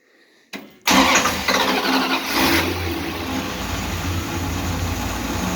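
A 1941 Dodge truck with a Hemi engine and clutch fan starts up, a brief crank then a loud catch into a rough, steady running idle that continues to the end.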